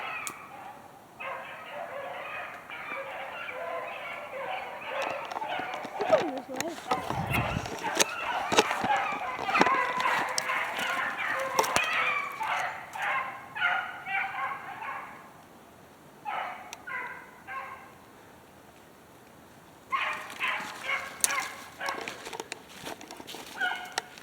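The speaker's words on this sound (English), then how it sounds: "Leave them dogs alone." Dogs barking outdoors in a wooded thicket during a public-land shed hunt, a long run of rapid, excited barks and yelps at middle distance, pausing briefly and then resuming.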